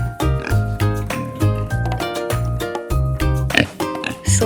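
Repeated pig oinks, rhythmic and bouncy, play over a steady musical backing with a pulsing bass, loud and close throughout, with no talking.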